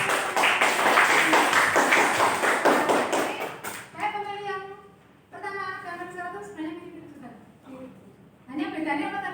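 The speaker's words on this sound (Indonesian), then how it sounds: "nah bagus sekali, tepuk tangan, kasih." Classroom students clap together for a few seconds, a loud burst of applause that stops abruptly, followed by a teacher speaking in a quiet room.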